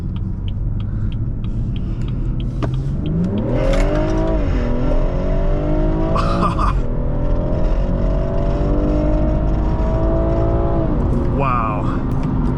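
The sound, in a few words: 2017 BMW 440i Coupe accelerating in Sport Plus mode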